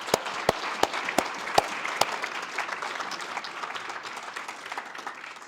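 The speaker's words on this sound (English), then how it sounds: "can we also have another round of applause for all our presenters this week?" A conference audience applauds, sharp scattered claps at first that thicken into steady clapping and slowly fade, moderately loud with no speech.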